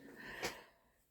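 A single sharp sneeze bursts out midway through a quiet paper-crafting session with polymer stamps, brief and close, rising over faint background noise and then fading.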